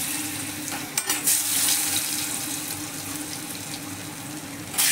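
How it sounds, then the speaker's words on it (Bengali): Long-cut potato slices frying in oil with dried chilli and panch phoron, a bright continuous hiss with a sharp crackling burst near the start and another at the end. "এবার আমি আলুগুলো দিয়ে ভালো করে নেড়ে চেড়ে আলুগুলোকে ভেজে নেব"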